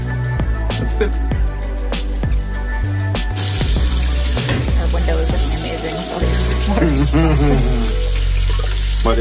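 A tap runs hard into a sink, rinsing dye off a Glo Z Zone disc golf disc. The loud, steady gush is broken by splashes and clatter, and a voice can be heard faintly at times.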